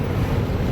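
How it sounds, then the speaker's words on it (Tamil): Heavy water of the Kaveri river rushing past, a loud continuous roar with wind buffeting the microphone. "தண்ணி பாருங்கள் எவ்வளோ தண்ணி வருதுன்ட்டு."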